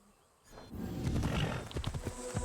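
A horse in Assassin's Creed Shadows snorts and whinnies amid rough, roaring animal noise with thudding hoof-like beats, loud and close after a quiet start.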